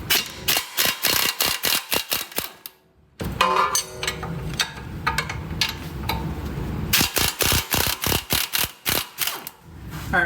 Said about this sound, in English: Let's go ahead and get those pinch bolts out.